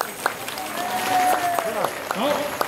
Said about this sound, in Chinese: 可不可以观众给我们掌声一下？